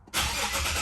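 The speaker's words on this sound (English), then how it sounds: "I'm gonna start the car" An Infiniti G37 engine cranks and catches after a brief quiet moment, then settles straight into a steady, loud idle close by.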